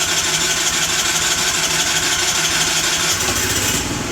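A car engine cranks over while being jump-started with a Topdon V2200 jump starter, giving a loud, steady, dense mechanical churning that shifts in tone just before the end.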